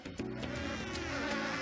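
A dense, wavering buzz hums steadily throughout, like bees swarming close by, with a few faint clicks and rustles, in a Donkey Kong Country cartoon episode.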